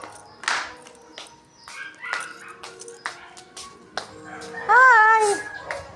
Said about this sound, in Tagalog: Diyan yung mga aso ko.